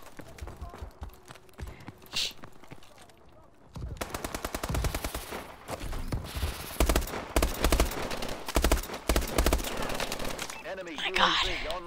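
Automatic gunfire from a newly unlocked gun in Call of Duty Advanced Warfare, rapid loud bursts of shots in quick succession with game effects, starting after a quieter stretch and continuing with short gaps to the end.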